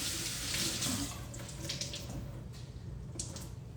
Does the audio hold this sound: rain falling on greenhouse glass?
no